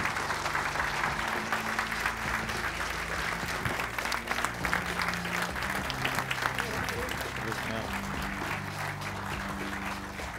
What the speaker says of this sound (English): Give him one massive round of applause, Mr. Stephen Green!